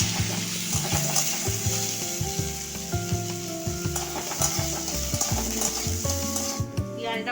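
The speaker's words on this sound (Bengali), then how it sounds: "পেঁয়াজ কুচি, এগুলো ভালোভাবে একটু ভেজে নেব।" Chopped onions with garlic paste fry in a pan for a red spicy mutton curry, sizzling steadily and loudly while a spatula stirs with regular scraping knocks. No one talks over it.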